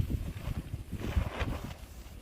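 Steady blustery wind buffeting the microphone outdoors on a winter day, a low continuous rumble with gusty swells and no voices.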